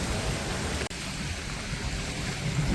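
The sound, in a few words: strong flowing floodwater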